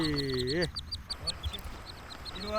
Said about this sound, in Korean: 야생 원앙이 서씨를 따르는 이유가 뭘까?